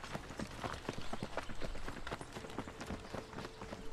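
Rapid, rhythmic hoofbeats of a galloping horse in Assassin's Creed III, steady and fairly loud, with faint game ambience beneath.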